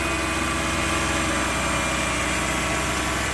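A Suzuki Multicab's F6A carbureted engine runs steadily at close range, a continuous even idle hum with no break and no voices over it.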